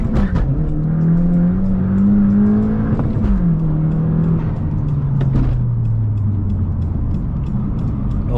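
A Stage 1 tuned car pulls hard under loud acceleration, the engine tone climbing steadily, dropping briefly at a gear shift, then rising again, heard close from inside and alone with no talking.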